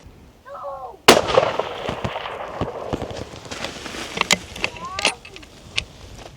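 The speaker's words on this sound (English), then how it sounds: "ready to shoot at 300 yards" A single sharp rifle shot from a 72-year-old .270 Winchester fired at a 300-yard target outdoors, a loud crack with a rolling echo, followed by scattered clicks and handling noises.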